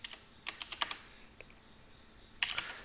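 Quick bursts of keystrokes on a computer keyboard while code is typed, clustered clicks early on, a short pause, then another flurry near the end; close and fairly quiet, with no talking.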